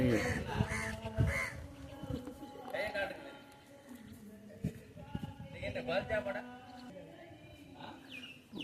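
Myna birds fly and call around a pond area, their chattering calls scattered through the clip beneath steady nearby talk.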